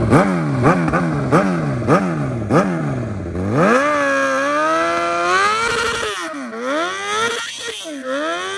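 A Suzuki GSX-R 750 motorcycle engine revs during a tire-popping burnout, loud close rhythmic rev pulses rising into a sustained high wail, then wavering and surging again.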